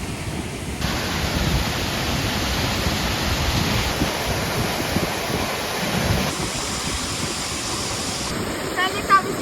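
Mactol Falls in Nagtipunan, Quirino roars as a broad, steady rush of falling water, loud and constant throughout with a faint tonal whine above it.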